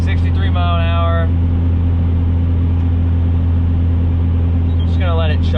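A 12-valve diesel truck engine chugs steadily at about 1700 RPM at highway speed, a constant low rumbling drone heard from inside the cab, with a voice talking briefly over it at the start and end.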